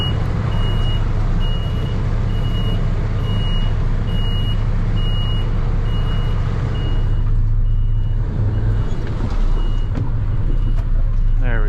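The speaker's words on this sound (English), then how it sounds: "This truck is not very smooth on backing, man." A Pepsi delivery truck reverses under a trailer, its loud backup alarm beeping in a steady repeating rhythm over heavy, constant diesel engine rumble close by.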